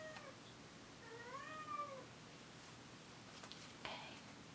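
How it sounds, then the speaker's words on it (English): A house cat meows in a long, drawn-out, wavering call, with a shorter meow at the start and soft sounds later, heard faintly and alone in a quiet room. "It's my cat."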